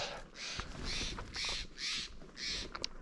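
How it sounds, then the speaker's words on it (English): A jay squawks outdoors at sunrise in a valley, giving four or five harsh, raspy calls in an uneven rhythm, moderately close and clear against quiet surroundings with no speech. "Actually, I think it's some type of jay. With that squawk."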